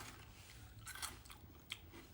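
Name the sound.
biting crunchy crispy grapes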